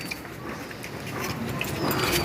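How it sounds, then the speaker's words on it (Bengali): A kitchen gas stove's knob turned on, a short ratcheting click-clack of the igniter mechanism, near and fairly quiet, with a faint hiss rising at the end. "গ্যাস অন করলাম।"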